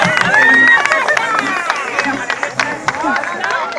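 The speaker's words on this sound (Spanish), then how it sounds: "Un aplauso para ella." An audience applauds a romantic singer after a song, with dense, ragged clapping mixed with crowd voices and a singer's voice over it.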